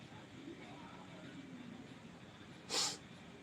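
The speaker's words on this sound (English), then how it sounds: "Blow my nose." A single short, sharp nose blow bursts out near the end, loud against a quiet, noisy room background, with no talking around it.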